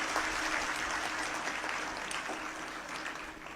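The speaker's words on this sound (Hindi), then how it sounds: "आप तालियां बजा रहे हैं, इसका मतलब आप मेरी बात का समर्थन कर रहे हैं" An audience at a public speech applauds, a dense, steady wash of clapping heard from a moderate distance that fades slightly toward the end.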